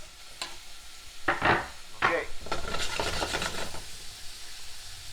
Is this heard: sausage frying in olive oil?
yes